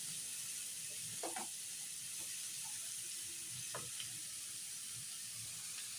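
Snake gourd vegetable fry with turmeric and cumin powder sizzles steadily in a pan, a constant close hiss broken by faint scraping clicks as it is stirred and salted.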